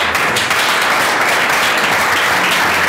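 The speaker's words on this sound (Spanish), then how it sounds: "Un aplauso por favor al..." Audience at an academic engineering conference breaking into applause, a loud dense burst of clapping that carries on steadily for a few seconds.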